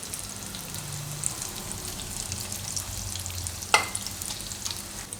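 Soya and banana tikki shallow-frying in a pan over a medium gas flame, a steady close sizzle with a brief sharper crackle as a patty is turned, no voices.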